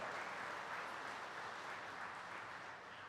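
A ribbon-cutting ceremony audience breaks into sustained applause, a dense steady wash of clapping that holds at an even level for the whole stretch with no voices on top.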